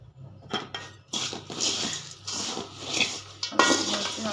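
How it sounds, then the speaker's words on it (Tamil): Puffed rice for spicy kara pori is stirred in a metal pan, producing close, irregular clanks and scrapes of the utensil against the metal along with a light rustle of the grains. "நல்லா பொரிய கொட்டி கிண்ட வேண்டியதான்"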